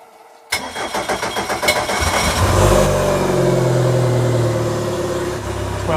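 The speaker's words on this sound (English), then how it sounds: "Starting the engines." Boat outboard engines crank with a rapid stuttering chatter, then catch and rev up into a loud, steady running roar that holds close by, with no talking over it.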